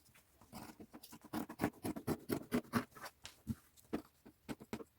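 Scissors cutting through denim from a jean skirt, a quiet run of rapid, irregular crunching snips close to the microphone with brief pauses between them and no talking.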